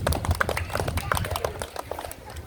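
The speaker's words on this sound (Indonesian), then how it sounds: "Beri tepuk tangan untuk kelompok 3." Schoolchildren clapping for a group after a physical education locomotor movement session, an uneven burst of sharp claps up close with children's voices and chatter mixed in, easing off toward the end.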